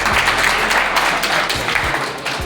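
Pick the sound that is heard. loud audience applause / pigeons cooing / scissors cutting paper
loud audience applause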